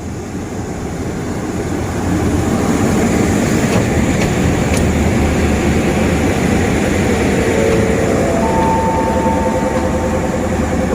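Hitachi diesel locomotive 4506 hauling passenger train 172 at Ratchaburi station, a loud, steady low engine rumble that swells after a couple of seconds and holds, with faint tonal whines appearing near the end.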